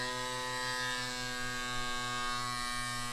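Cycplus AS2 Pro Max electric bike pump running on a bike, a steady close motor buzz with a strong hum and slight pulsing throughout, no talking.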